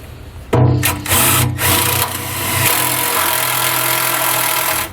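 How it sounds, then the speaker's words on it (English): A power drill whines up abruptly, then drones steadily at high speed as it bores into a panel of a 2020 Jayco Pinnacle, loud and close, with a brief dip early on. "drill into this panel here"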